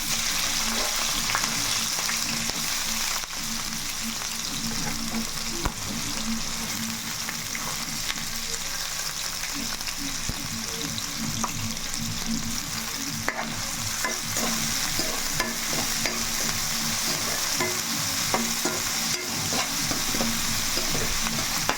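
Onions, with green chillies, frying in a pan until brown for a gongura prawn dish, a continuous close sizzle with frequent stirring and scraping throughout.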